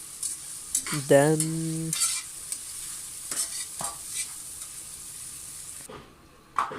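Vegetables sizzle quietly in a pan for a one-egg Afghani tomato and potato omelette, with soft stirring scrapes and a brief spoken word.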